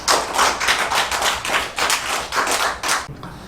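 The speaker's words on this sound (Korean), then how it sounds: "박수로 하나님께 영광 돌리시겠습니다." A church congregation at a Sunday worship service applauds together, the clapping coming in rhythmic swelling bursts that fill the room, loud and steady before fading out at the end.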